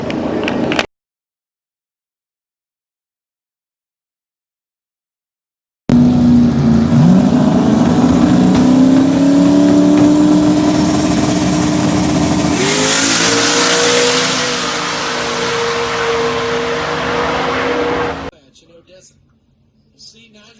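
A turbocharged drag car on a stock LS 5.3 block racing down the strip, its engine revving up loudly with rising pitch after a silent gap, then fading away, with a crowd and announcer audible.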